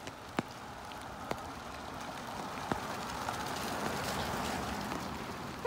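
Steady rain falls outdoors along a Halloween-decorated street, a soft continuous patter with a few sharper drop ticks standing out now and then.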